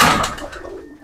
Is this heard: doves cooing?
yes